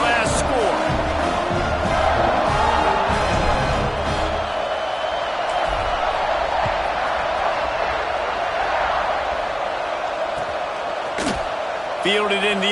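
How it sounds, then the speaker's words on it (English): Football stadium crowd buzzing steadily after a touchdown, a dense roar of many voices filling the whole stretch with a few sharp claps or thumps, while a commentator talks over it. "this crowd is buzzing after that last score"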